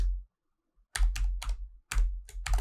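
Computer keyboard typing code for a PyQt5 GUI app: two quick bursts of several close, crisp key clicks separated by a short silence, with no talk.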